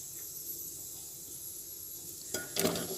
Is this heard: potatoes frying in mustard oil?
yes